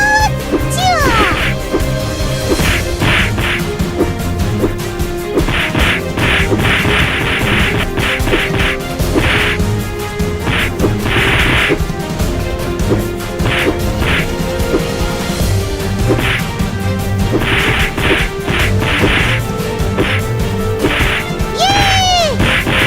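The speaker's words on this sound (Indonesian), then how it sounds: "Akhirnya aku berhasil menghancurkan monster Sonhorek ini." Super punches smash a monster in Sakura School Simulator, a string of loud whacks and crashing bursts repeating over a dense, continuous game soundtrack.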